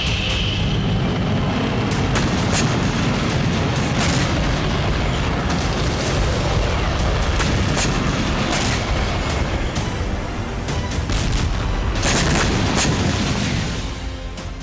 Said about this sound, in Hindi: बेरूत में हुई एयर स्ट्राइक में आईडीएफ ने GBU-39 ग्लाइड बम का इस्तेमाल किया, जिसने 4 इमारतों को तहस नहस कर दिया